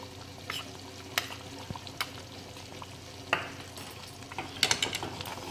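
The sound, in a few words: mixing flour into zunka in a pan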